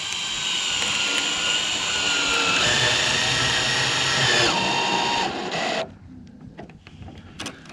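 A power drill drives a screw through four stacked layers of corrugated plastic greenhouse roofing, a loud steady whine with a shifting pitch that cuts out near the end and leaves quieter rustling handling noise.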